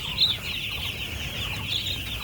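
Three-day-old chicks in a village chicken farm shed keep up a steady, high-pitched peeping and chirping throughout, moderately close with no voices.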